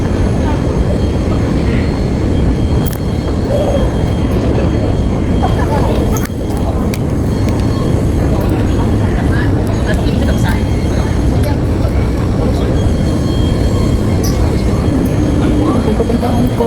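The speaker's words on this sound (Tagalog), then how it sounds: "naghihintay ang Inday ng train" Train pulling through Mong Kok interchange station in Hong Kong, a steady loud rumble with rail noise filling the platform while people talk nearby.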